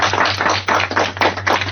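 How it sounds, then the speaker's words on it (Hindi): Loud audience clapping in a junior quiz-show studio, several surging waves of applause over a steady low hum, with no voices. "इसी के साथ मैं चाहूंगी कि एक बार जोरदार तालियों से खेल"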